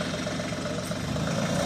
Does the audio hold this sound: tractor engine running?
yes